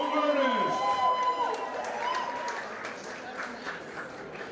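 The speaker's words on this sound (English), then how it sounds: "How about a round of applause for our round 2 artists?" An audience at an Art Battle live painting event in Bangkok applauds for the round 2 artists, a steady crowd clapping that fades slightly, with voices and a tonal sound over the start.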